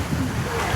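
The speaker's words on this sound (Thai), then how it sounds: "วันนี้ลมแบบนี้" Strong wind gusts steadily across the microphone outdoors at a site where a house is being assembled, a continuous loud rush with no voices.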